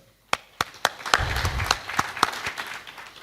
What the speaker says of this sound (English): let's clap also for ourselves